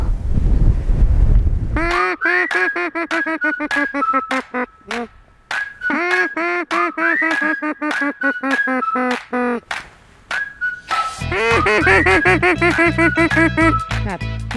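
A goose call blown during a duck and goose hunt gives loud, close, repeated honking notes in several bursts separated by short pauses, with a voice briefly audible at the start.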